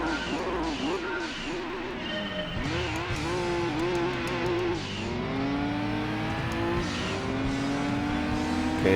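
Race cars in the video game Gran Turismo 2 on the Seattle Short Course, with steady synthesized engine drones rising and falling in pitch as cars accelerate and shift, loud and continuous throughout.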